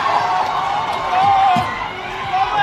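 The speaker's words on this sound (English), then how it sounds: "the crowd's getting a little bit heated" A heated crowd roars at an under-20s rugby test match between New Zealand and Australia, a loud, steady wash of massed voices with swelling shouts, heard from within the stands.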